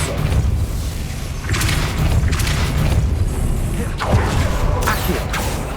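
A Depulso spell is cast in the video game Hogwarts Legacy, giving deep booming thumps and rumbling impacts over dense, continuous game noise, with a few sharper bursts partway through.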